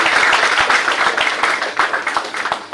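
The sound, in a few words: audience applause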